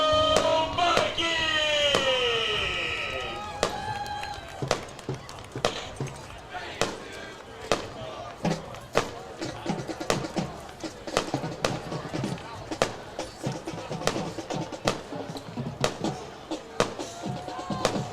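Fireworks crack and bang repeatedly at a high school football game, sharp irregular pops scattered through the span over a crowd murmur, with a whistling launch near the start.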